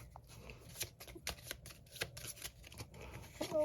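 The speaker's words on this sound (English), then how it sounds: "So I'll just shuffle." A deck of cards shuffled repeatedly in soft, rapid riffles and slides, faint and close, with quiet background hiss.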